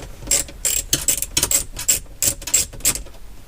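Ratchet with a 7mm socket turning out a kick panel screw in a 1995 Corvette, a close, quick series of about nine sharp clicking strokes in an even rhythm with no speech.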